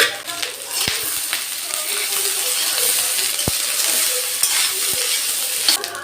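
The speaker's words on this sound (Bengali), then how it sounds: "এটার মধ্যে ভাত দিয়ে ভেজে দেবো" Cooked rice stir-fried in a pan with egg and vegetables: a steady sizzle, with sharp clicks and scrapes of a spatula against the metal at irregular moments.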